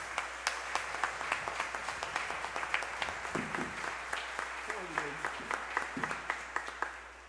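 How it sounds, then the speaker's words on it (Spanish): Steady applause from a church congregation at Sunday Mass, many hands clapping densely throughout, with a few faint voices briefly rising underneath. "le damos un fuerte aplauso a nuestro hermano"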